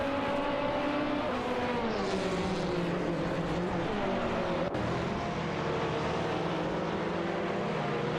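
Engines of race cars in an AI racing video game drone continuously and loudly, their pitch sliding as the cars accelerate and pass, with one sharp click midway.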